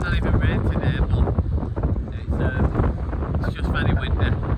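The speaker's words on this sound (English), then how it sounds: "it's just very windy" Strong wind on Chesil Beach in Dorset buffets the microphone with a continuous, loud roar and gusting rumble, while a person talks over it throughout.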